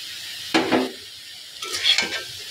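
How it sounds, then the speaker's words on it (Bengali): Banana stem curry is stirred in a pan, with two short scraping bursts of the spatula about a second apart over a faint background hiss and no voices. "ভালোভাবে নেড়ে চেড়ে মিশিয়ে আবার ঢাকা দিয়ে দেবো।"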